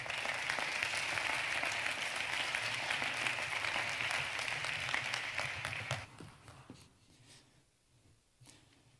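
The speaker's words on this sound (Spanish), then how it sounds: "Un aplauso para él, por favor." An audience claps steadily for a speaker at a justice data forum, loud sustained applause that cuts off abruptly and tapers into a few scattered claps and room noise.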